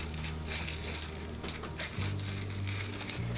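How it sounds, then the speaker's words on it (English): Salt and pepper grinders twisted over lamb chops, giving faint, soft gritty grinding and small ratcheting clicks against a low steady background hum. "They're just grinders, so you just hold them up on top and grind them up."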